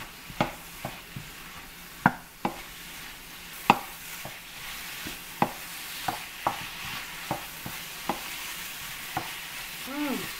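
A spoon stirs a spiced chicken gizzard sauté with sliced vegetables and fish sauce in a frying pan. Steady sizzling runs under a string of regular scraping clinks against the pan.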